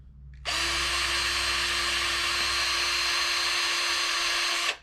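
A power drill whines steadily as it bores through a wooden gun stock, starting abruptly and running for several seconds before stopping.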